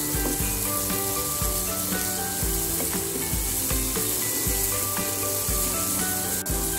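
Spice paste sizzling steadily in a pan with galangal and bay leaves added, with rhythmic stirring scrapes and clinks of a utensil against the pan throughout, close and continuous with no talking.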